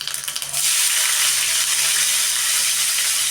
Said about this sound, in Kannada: ಸ್ವಲ್ಪ ಚೆನ್ನಾಗಿ ಎಣ್ಣೆಯಲ್ಲಿ ಫ್ರೈ ಆಗಬೇಕು